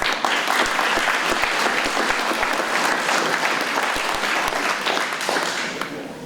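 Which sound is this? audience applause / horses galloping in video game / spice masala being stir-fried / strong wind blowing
audience applause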